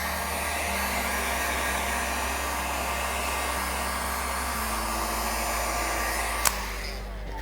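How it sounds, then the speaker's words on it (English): A heat gun on its highest setting blows steadily while warming paint protection film on a car's front fender, a constant loud whirring hum that cuts off abruptly near the end with a sharp click. "on the highest setting of your heat gun, about 2 to 3 inches away with constant movement"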